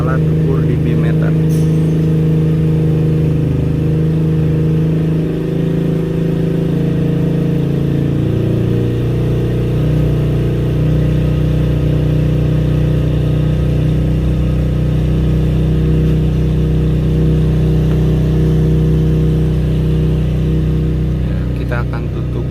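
A Kia Sonet's engine runs, heard from outside the car: a steady, loud humming drone with a slight pitch dip partway, sustained throughout.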